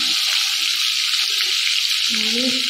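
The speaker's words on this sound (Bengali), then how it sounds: "চিংড়ি মাছগুলো কিন্তু এবার আস্তে আস্তে একটা একটা করে দিয়ে দেবো, দিয়ে ভালো করে ভেজে নেবো।" Large prawns frying in oil with turmeric: a loud, steady, close sizzle hisses throughout, with a brief low voice near the end.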